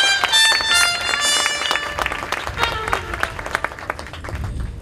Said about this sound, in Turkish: Damat Bey de güçlü bir alkış.